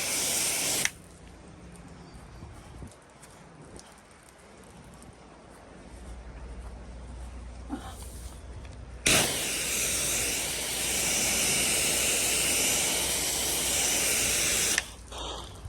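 A softwash sprayer mists cleaning solution onto a house wall outdoors, giving a steady close hiss that cuts off briefly, returns louder and more forceful, then drops away near the end, with no talking.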